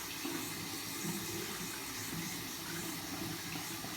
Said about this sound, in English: I can get me some water coming down here to get a nice little rinse going on.